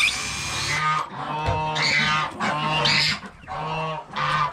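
Several geese honk loudly and repeatedly nearby, their nasal calls overlapping in short bursts with brief pauses between.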